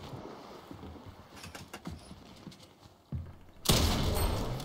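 Shotgun blasts in the Fortnite video game, a few sharp bursts among busy game sounds, with a loud, dense blast near the end.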